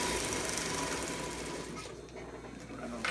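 A sewing machine stitching the hem of a 5x8 tarp runs steadily, a close, continuous mechanical whir with a rapid needle rhythm, briefly easing and picking back up, with no talk.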